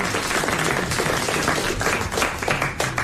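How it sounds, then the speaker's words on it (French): Studio audience applause on a 1994 French TV game show hosted by Philippe Bouvard: a steady wash of clapping from many hands, sustained and fairly loud throughout with no voices above it. "t'applaudit comme s'il était heureux pour toi d'avoir trouvé une bonne réponse"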